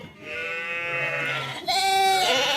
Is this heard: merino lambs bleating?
yes